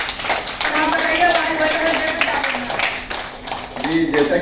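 Audience at a World Health Day event claps steadily in a dense, fairly loud burst lasting several seconds, hand strikes blending together, with voices mixed in underneath.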